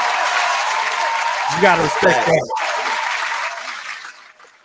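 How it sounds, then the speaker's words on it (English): A studio crowd claps continuously in a steady wash of applause for West Coast hip hop at a mixshow, with someone speaking briefly over the middle before the clapping fades out at the end. "Round of applause for West Coast hip hop."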